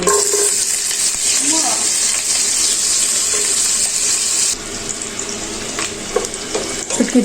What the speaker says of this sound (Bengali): এখন আমি শুটকি রান্না করব এর মধ্যে কড়াইয়ের মধ্যে তেল দিয়ে দিয়েছি তেলটা গরম হয়ে গিয়েছে